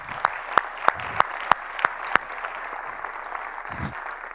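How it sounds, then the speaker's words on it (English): An audience claps to welcome a speaker at an organizational talk, a steady wash of applause lasting several seconds with sharp individual claps standing out near the start. "would like you to join me in welcoming Karen with an applause"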